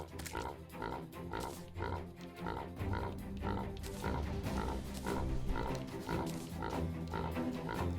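A pig in the video game Terraria oinks in rapid, repeated grunts, a continuous rhythmic stream of snorts over a dense game soundtrack.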